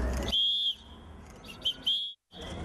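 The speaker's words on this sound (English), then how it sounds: "so we whistled in protest" Protesters at a street rally against internet censorship in Kazakhstan blow shrill, sustained whistles in several bursts, loud and close, with brief pauses between blasts.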